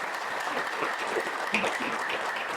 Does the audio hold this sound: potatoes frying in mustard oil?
no